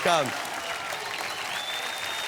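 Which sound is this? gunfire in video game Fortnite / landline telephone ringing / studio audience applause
studio audience applause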